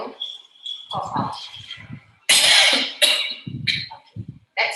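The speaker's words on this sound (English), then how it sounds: "Then you try to cough out." Forceful coughs during a breathing rehabilitation exercise, following an inhale assisted by pressing an empty bag, heard close and loud between stretches of spoken instruction.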